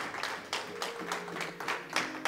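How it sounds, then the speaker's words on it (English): A church congregation claps as an offering during a sermon, a dense, fairly steady round of many hands clapping in a reverberant hall. "Give a clap of offering unto Jesus"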